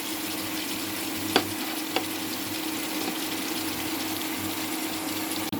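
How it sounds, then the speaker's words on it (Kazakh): Meat and onions fry in a pan with a steady, close sizzle, broken by a couple of brief clinks of a utensil. No one talks. "Мінекей етімізді кішкене қуырып алдық, бойынан су кеткенше. Енді мына пиязымызды саламыз."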